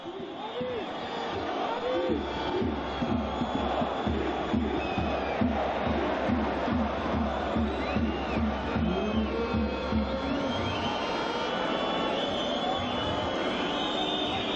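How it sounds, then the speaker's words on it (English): Football stadium crowd at a 2021 AFC Champions League match between FC Istiklol and Persepolis, chanting in a rhythmic pulsing beat with cheers and whistles, while a commentator talks over it. "the crowd trying to do their part here"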